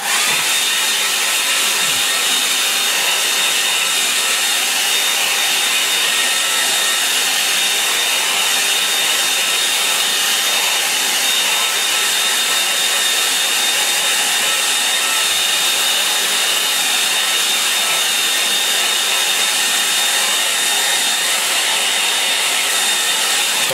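A hair dryer dries a watercolour painting, running as a continuous loud, close whooshing hum with a faint steady whine, unbroken from start to finish and with no talking.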